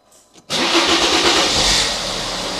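A 2001 Mercedes S320 CDI diesel cranks briefly and catches, then settles straight into a loud, steady, close idle.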